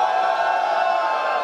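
Crowd at a rap battle in Londrina, Brazil, roaring and shouting in a sustained, dense wall of noise, loud and steady throughout with no clear individual voices.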